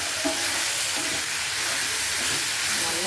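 Onions and spices sauté in a pan for a spicy chutney, a short steady hiss of frying with soft faint stirring underneath.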